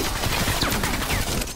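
The Ray Gun fires in Call of Duty Black Ops Cold War Zombies amid dense, continuous weapon noise, with rapid overlapping energetic zaps and bursts that stay loud throughout.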